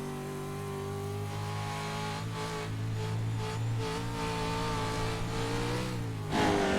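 A Pro 2 Lites race truck engine on a dirt track at Bark River International Raceway drones at steady revs, then climbs and drops sharply as the driver shifts into third gear, heard from a distance at moderate volume.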